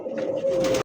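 Two pigeons at a wholesale pigeon market cooing close by, a sustained low throaty coo that swells and cuts off abruptly under a second of sound.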